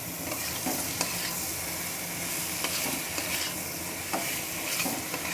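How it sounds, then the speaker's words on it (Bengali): Boiled elephant foot yam being stirred into spices in hot oil, a steady sizzle with scraping stir strokes and occasional spoon clicks against the pan, close and continuous with no talk. "মশলার সঙ্গে ওলটা খুব ভালোভাবে মিশিয়ে নেব।"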